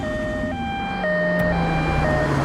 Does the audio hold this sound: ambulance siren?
yes